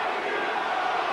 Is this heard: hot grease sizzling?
no